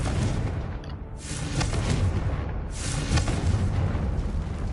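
A Confringo fire spell explodes in the Hogwarts Legacy video game, with a deep booming blast and rumbling roar that swells, dips, and surges again over several seconds.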